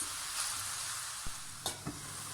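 Thinly chopped leeks sautéing in a pan give a continuous soft sizzle, broken by a few sharp stirring clacks of a utensil near the end.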